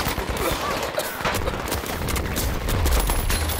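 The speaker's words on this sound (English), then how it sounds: "People on the roof shooting at us." Rooftop enemies firing on the player in a shooter video game, steady crackling gunfire bursts running continuously under a noisy, dense battle mix.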